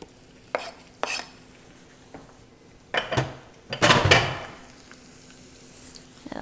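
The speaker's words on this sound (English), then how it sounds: "And then add our garlic." Garlic hits a hot oiled pan for pan fried noodles, a few sharp clinks of a utensil against the pan followed by a loud burst of sizzling that fades to a quieter crackle.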